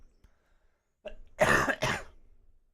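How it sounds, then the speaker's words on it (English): A short throat-clearing grunt followed by two close, loud coughs in quick succession, isolated against near silence, from a person streaming a railroad game. "Oh, I coughed."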